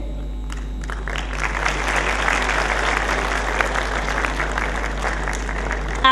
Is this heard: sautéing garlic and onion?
no